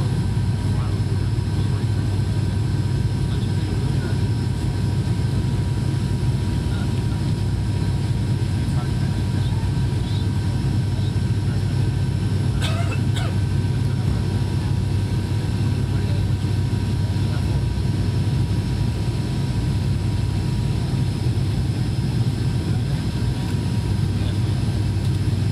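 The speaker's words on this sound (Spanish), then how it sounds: "aterrizando en Manchester de vuelta." Steady cabin drone of an airliner landing in Manchester on a return flight, a constant low engine rumble with a faint high whine, unbroken throughout and heard from inside.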